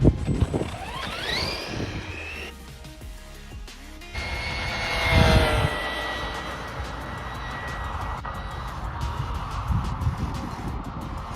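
An Arrma Big Rock RC truck on a speed run on cheap aftermarket tires near 50 mph, its electric motor whining up in pitch and then roaring past with a burst of wind and rumble, followed by a steady high whine.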